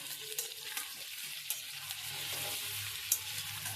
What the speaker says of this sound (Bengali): আলুটাও লাল লাল করে ভাজা হয়ে গেছে, পেঁয়াজটাও লাল লাল করে ভাজা হয়ে গেছে।